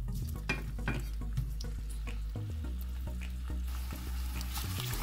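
Boiled potatoes fry in hot oil with curry leaves, giving a soft continuous sizzle broken by scattered clinks and scrapes of stirring.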